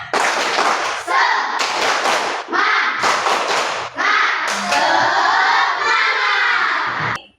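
A primary school class of children performs a rhythmic spirit clap in a classroom, loud bursts of patterned clapping with thuds and shouted chant voices throughout.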